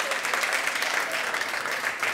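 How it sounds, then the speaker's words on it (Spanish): A studio audience at a Spanish television quiz show claps loudly and steadily, a dense sustained burst of applause filling the room throughout. "¡Fuerte el aplauso!"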